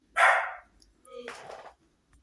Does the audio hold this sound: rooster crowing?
no